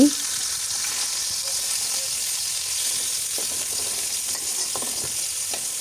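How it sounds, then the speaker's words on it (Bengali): Pieces of a large fish head fry in hot oil in a pan, giving a steady, close sizzling hiss with occasional small pops and crackles throughout, with no voices. "এখন ভেজে নিচ্ছি এক পাশ খুব ভালোভাবে ভাজা হয়ে গেছে আবার উল্টে দিয়েছি"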